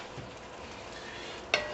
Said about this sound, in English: Alright, and stir that up a little bit.